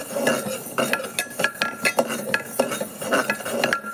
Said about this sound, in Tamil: நல்லா கலந்து கொடுத்து வறுத்துடலாம்